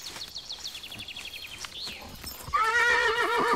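Horses whinny during a morning treat, starting with a faint, wavering neigh and ending in a loud, close, trembling whinny. Soft hoof clops and a few bird chirps sound in the background.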